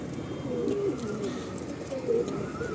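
A Fulsira pigeon from a home loft coos in soft, repeated rolling phrases, close and steady, with faint background noise and no talk over it.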